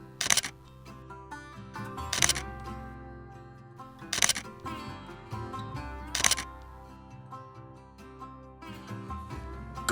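Single-lens reflex camera shutter clicks ring out during street portrait photography, about five crisp, evenly spaced snaps roughly two seconds apart over steady background music.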